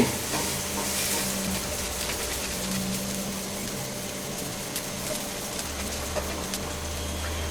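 Chicken with spices fries lightly in a pan for a sweet and sour dish, a continuous close sizzle with soft stirring scrapes and a low rumble near the end.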